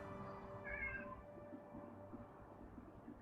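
A house cat, fussy about its food, gives one short, faint meow over a low, steady background hum, followed by quiet.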